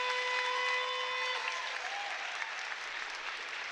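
Crowd at a city cheer and dance championship bursts into loud, sustained applause after a routine, dense clapping and cheering that holds steady for several seconds as a sustained musical tone fades out early on.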